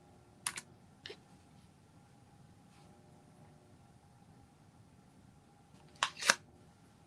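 A few short bursts of keystrokes on a computer keyboard: a quick pair of taps early on, then a faster cluster near the end, faint and close, with quiet stretches between.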